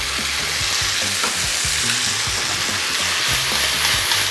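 Beef and canola flowers stir-fry in oyster sauce as Shaoxing wine is added, a loud continuous sizzle with scraping and tossing strokes from stirring throughout, no voices.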